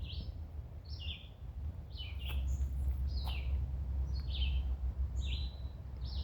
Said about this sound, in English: Oh, and a cardinal.